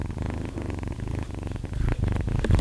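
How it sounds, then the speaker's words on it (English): A domestic cat purrs close up, a soft rhythmic rumbling with steady pulsing breaths, continuous and alone with no talking. "Do y'all hear his purring?"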